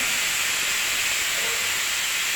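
Water boiling in an idli cooker on the stove gives off a steady, loud steam hiss that holds evenly throughout, with no voices.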